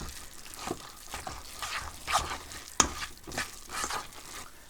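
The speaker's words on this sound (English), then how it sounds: "I'm stirring that all up" Soft stirring of flour sprinkled into a mixture, a steady run of quiet scraping and swishing strokes close by, with one sharper clink partway through and no talking.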